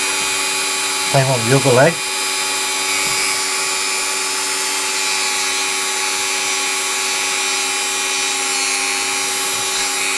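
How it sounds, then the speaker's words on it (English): A Dremel fitted with a wire brush polishes the power bogie of a Hornby model locomotive, its thin steady motor whine running throughout at close range, with a brief spoken remark at the start. "Wire brushing the Dremel actually is very good at polishing things like this."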